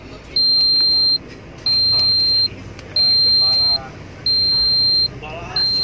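A high electronic beep repeating in steady, evenly spaced pulses, about one per second, loud and close, with faint talking underneath.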